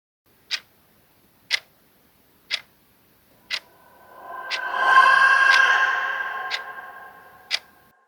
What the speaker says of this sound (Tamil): அப்போது கடிகாரத்தின் சத்தம் நன்றாக கேட்டது.